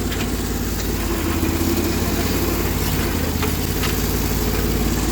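Dually pickup truck engine rumbling steadily while crawling over rough, uneven ground on a building site, a close, continuous low drone with occasional knocks and bumps and no voices.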